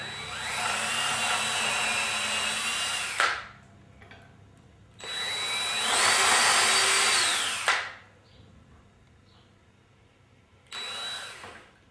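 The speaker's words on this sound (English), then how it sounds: "I got a pilot drill, like a 1/16 of a drill bit" A power drill with a 1/16-inch bit drills pilot holes in three separate bursts, two long runs a few seconds each and a short final one, with quiet pauses between.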